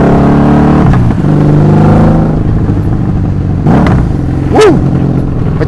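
A 1984 Honda Magna 750cc V-twin motorcycle revving on the road, a loud, close engine drone with several sharp throttle blips rising and falling.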